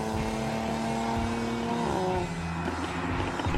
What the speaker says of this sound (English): But this is how it sounds. With those pops and bangs,